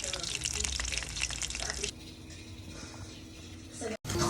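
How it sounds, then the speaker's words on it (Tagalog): Food frying in a pan, a dense sizzling crackle that runs loud for the first two seconds, then settles into a quieter hiss before a brief cutoff and a return. "magpiprito na tayo guys"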